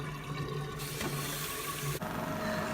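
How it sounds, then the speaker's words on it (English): Water drains out of a sink with a continuous gurgling, rushing flow, fairly quiet and close, shifting in tone partway through with no talking. "I just let the water out here, let that drain down."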